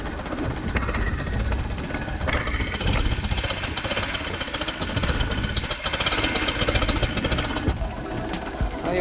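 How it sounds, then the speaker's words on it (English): An old outboard boat engine, with a carburetor that may need cleaning, runs steadily and loudly throughout. It gives off a dense, rattling drone with no pauses. "that carburetor might need some cleaning, but it is running"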